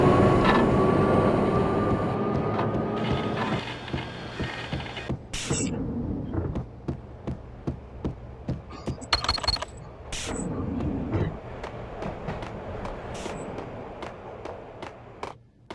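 A train in the video game Max Payne rolls with a heavy rumble that thins out into a long series of sharp metallic clanks and creaks, irregular but frequent, with no voices.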